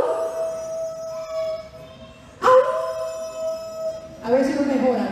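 A man imitates a wolf howl with his voice: a long, steady, rising-and-falling wail held for about two seconds, then broken off by a sharp burst, and a second howl-like cry follows, close and clear.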